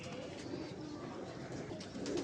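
Pigeons cooing softly at close range, low throaty murmurs repeating throughout the short stretch over a quiet background.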